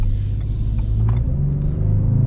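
A 2023 Ford F-150 pickup with a 3.3L V6 rumbles steadily from inside the cab, a low engine drone holding under load with a slight rise in pitch as it accelerates, no voices.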